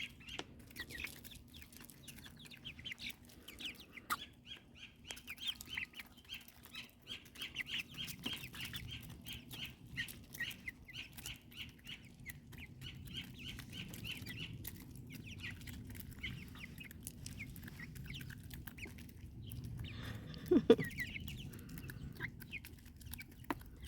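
Backyard chickens cluck and murmur softly at a distance in a quiet outdoor desert garden in Arizona, with a brief flutter or scuffle near the end.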